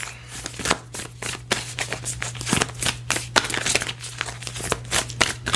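Tarot cards are shuffled by hand in a quick run of crisp riffles and slaps, close up, over a low steady hum and with no talking.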